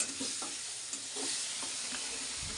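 Okra curry (bhendi bhaji) being stir-fried in a pan: a steady close sizzle with repeated spoon scrapes and stirring knocks, no talking.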